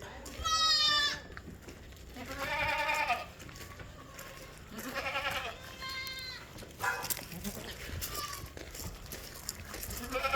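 Goats for sale at a Kerala livestock market near Manjeri let out about five loud, wavering bleats one after another, close by, while people talk in between and underneath.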